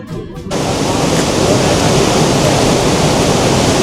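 A waterfall along the Kailash Mansarovar route roaring in a dense, loud, continuous rush of falling water that swells in after a brief quieter moment at the start.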